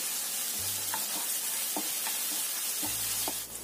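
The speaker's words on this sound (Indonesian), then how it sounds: "Kita tumis sampai tercium bau enak atau jahenya ini matang." Steady loud sizzling of ginger stir-frying in a hot pan, with occasional light scraping from stirring and a low hum in the background.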